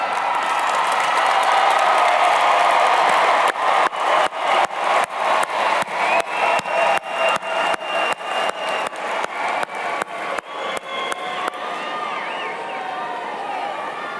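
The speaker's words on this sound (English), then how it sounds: "Stand up right now and find them in the audience, and you give them the best cheer that you can possibly give them" Graduation ceremony audience cheering and applauding in a large hall, a dense roar of crowd noise with bursts of clapping that rise and fall, then thin out toward the end.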